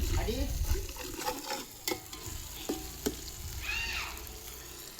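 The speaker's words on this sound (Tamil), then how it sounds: "இப்போ வெங்காயம் போட்டு இது பூண்டு போட்டுக்கலாம்" Onions and garlic paste frying in a pan for biryani, with close spatula scrapes and clatters over a soft sizzle, uneven stirring strokes throughout and no talk.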